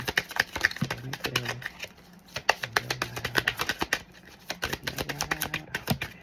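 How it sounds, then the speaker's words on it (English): Tarot cards are shuffled by hand in quick, crisp riffling bursts of patter, close and fairly soft, with brief pauses and occasional low murmuring. "So I got to keep shuffling until something shows itself"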